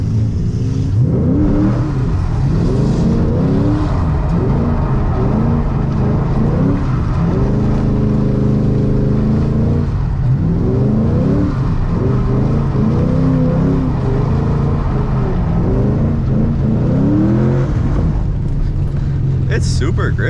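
A Ford Mustang engine revs loud and close throughout, rising and falling in repeated surges as the driver clutch-kicks through a drift on a wet rain-soaked street, with a steady heavy drone underneath.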